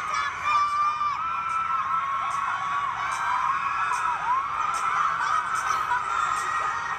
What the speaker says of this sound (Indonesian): banyak banget ya suara teriakannya